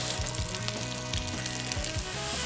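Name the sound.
mushrooms frying in butter in a pan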